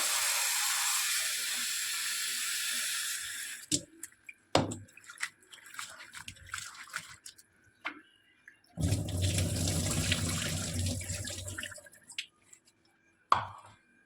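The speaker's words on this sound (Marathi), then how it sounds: "दोन तीन पाण्याने धुवून टाकायचं." Cauliflower is rinsed in water in a kitchen sink. A long, close rush of tap water is followed by drips and clattering handling, then a second steady pour and a final splash, with no voices.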